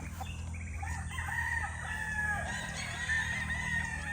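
A young banded gamecock stag crows among farm fowl, its call rising over a steady background hum and scattered clucks, moderately close and of medium loudness.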